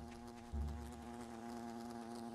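A small wasp keeps up a steady, faint buzzing drone, joined by a low thump about half a second in, then continuing evenly.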